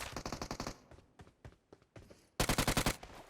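Rapid bursts of automatic gunfire in the PUBG Mobile video game, a quick string of loud shots, a pause with scattered single shots, then another loud rapid burst close by.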